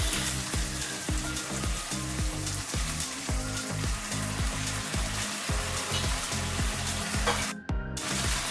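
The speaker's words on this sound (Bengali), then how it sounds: "দিয়ে মশলাটা কষে নেব।" Spice paste fries in a pan with a steady, close sizzle, broken by regular rhythmic scraping strokes as it is stirred, and no one speaks.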